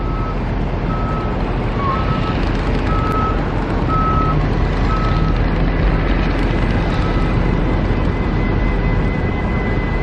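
Heavy truck engine rumble at a Las Vegas stadium construction site, loud and continuous, with a repeating reversing beep sounding at regular intervals over the drone.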